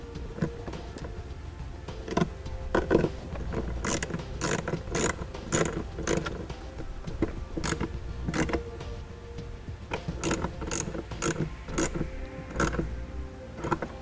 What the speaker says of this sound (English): we'll go ahead and tighten down all the nuts for our circuit breakers